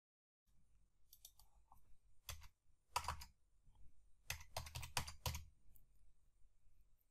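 Keys clatter on a computer keyboard as a purchase requisition number is entered into an SAP transaction field, arriving in quick, clustered bursts of close, crisp taps after a moment of silence.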